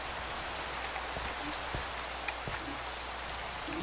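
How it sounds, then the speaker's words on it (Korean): Heavy rain falls in a steady, dense hiss, with occasional louder drops striking nearby surfaces, unbroken and without voices. "비가 너무 지금 많이 와가지고"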